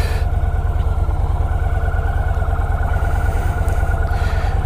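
A motorcycle engine idles and pulls slowly out of a parking lot, a steady close rumble with a rhythmic low pulse and no voices.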